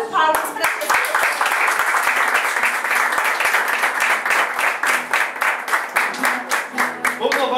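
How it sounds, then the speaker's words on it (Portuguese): A congregation in a Brazilian church claps in a steady, even rhythm of sharp beats, with voices sounding over the clapping. "Uma salva de palmas para Deus."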